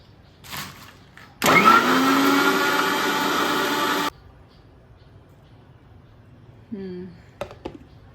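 Mixer grinder blending a mango milkshake with ice cubes and milk: a loud, steady motor whir that starts abruptly, runs for under three seconds, then cuts off, with faint handling noises before and after.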